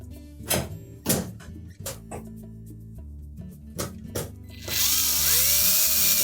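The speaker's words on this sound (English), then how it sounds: "we'll just continue to put the rest of those screws in" Power drill driving screws into a Whirlpool range while its insulation is refitted: several short bursts of whirring with knocks between, then a louder, sustained high whine near the end.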